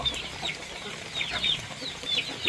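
Chickens cluck and squawk in repeated short calls during feeding time at a farm, fairly near and moderately loud, with no one speaking over them.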